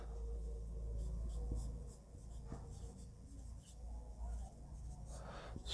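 Chalk or marker scratching on a classroom board during a maths lesson, steady rubbing strokes heard close with a low background hum and no speech.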